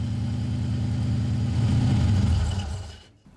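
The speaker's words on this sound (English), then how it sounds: "It's a straight Rover V8, just like you'd have in a Land Rover." Turbocharged 3.9 litre Rover V8 fitted in a Ford Thames 400E van, rumbling loudly with a deep, steady burble that swells slightly before cutting off near the end, with no talking.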